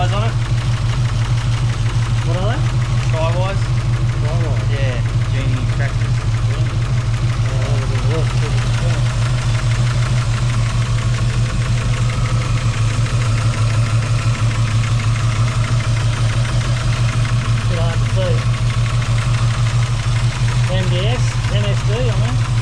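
A V8 Ford Mustang fitted with extractors idles after a cold start, a loud, steady low rumble that holds constant throughout while people talk nearby.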